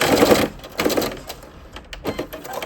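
Sewing machine back stitching at the end of a seam on a pleated skirt, two or three short whirring bursts of stitching separated by brief pauses, close and moderately loud.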